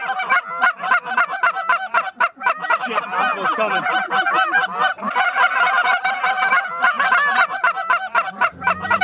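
Many geese honk together in a field, a thick, steady chorus of close, loud calls with a few words spoken briefly near the end.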